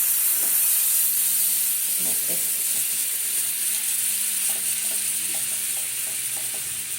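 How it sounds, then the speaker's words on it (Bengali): Butter heating in a kadai (wok) for butter paneer gives a steady, close sizzling hiss with scattered small crackles and pops throughout. "কড়াই চাপিয়ে এবারে দেবো বাটার"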